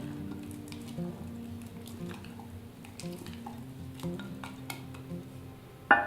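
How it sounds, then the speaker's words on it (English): Utensil stirring sourdough starter in a jar, with soft scraping, light clinks and sticky squishing in a quiet room, ending with a sharper knock. "let's just go ahead and stir up the starter a little bit."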